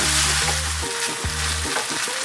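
Dal tadka with green chilies fries and sizzles in a pan with a broad, steady hiss, constantly stirred, while a low mechanical hum pulses underneath.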